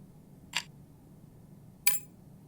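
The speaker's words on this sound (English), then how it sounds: "Now let's give it a stir." Two brief, bright clinks of a spoon against a teacup while stirring tea in a video game, spaced about a second apart, fairly close and clear over a low background hum.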